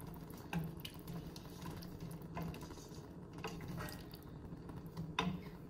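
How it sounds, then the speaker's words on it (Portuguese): Boiling water poured into a pot of Azorean quail rice on the stove. It makes a steady, close splashing and gurgling wash with a few louder splashes, and no one speaks over it. "E vou juntar água que está a ferver primeiro."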